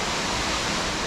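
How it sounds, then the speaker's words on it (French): Rushing waterfall, a dense, loud, unbroken roar of falling water, with no voices. "autre point de vue, autre vision sur cette cascade"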